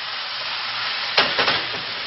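Ribeye stir fry with sesame seeds, mustard seeds, pepper and salt hisses in a hot pan, a steady muffled sizzle broken midway by a few quick stirring scrapes.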